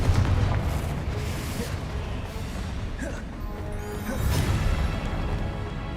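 Heavy, continuous booming blasts from the Confringo explosion spell in Hogwarts Legacy, loud and rumbling with surges of crashing impact sound throughout.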